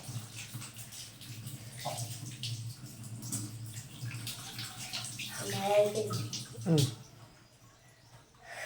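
Running water splashes continuously as hands are washed under it nearby, while people talk over the flow.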